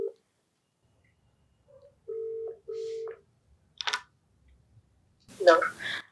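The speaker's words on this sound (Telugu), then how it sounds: "నెంబర్ ఉంది, కాల్ చేసేస్తానండి" A phone call gets placed: a few short keypad tones and a steady dial tone, then a click and brief muffled noise, all quiet and close with no talking over it.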